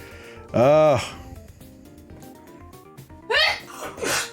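A single sharp, explosive sneeze-like burst rings out loud and close, followed a few seconds later by a shorter breathy vocal outburst amid quiet background sound.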